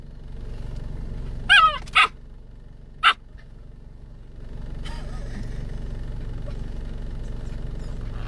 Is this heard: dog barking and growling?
yes